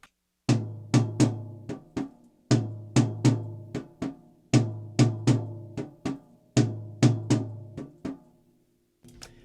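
A hand drum repeats a pattern of one long ringing tone, two faster tones, then two short muted squash strokes, each hit sharp and close with a decaying ring, clear and alone over several cycles.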